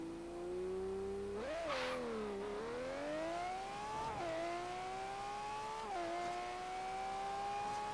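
A video game car in Forza Horizon 3 revs hard, its engine note climbing steadily, then dipping briefly at each of several quick gear shifts before climbing again, loud and continuous with no talking.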